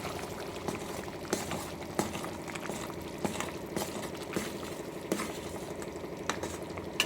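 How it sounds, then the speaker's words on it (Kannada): A spoon stirs garam masala and coriander powder into a simmering pea curry, with steady bubbling under light scraping and occasional clinks against the pot. Close and fairly quiet, with no voice. "ಮಿಕ್ಸ್ ಮಾಡ್ತಾಯಿದ್ದೀನಿ."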